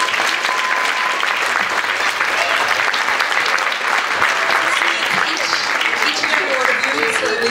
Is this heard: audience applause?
yes